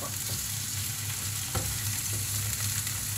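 Chopped tomatoes sizzle and fry in a pan with string beans in a Filipino ginisang sitaw, a steady close crackle with occasional stirring scrapes and no talking.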